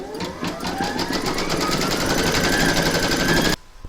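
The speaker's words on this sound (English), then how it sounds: "you're going to stitch round number 1, and that's going to give you a placement outline for your batting" A home embroidery machine stitches a placement outline for batting in an in-the-hoop Christmas tree project, its needle hammering in a fast steady rattle for a few seconds before stopping abruptly.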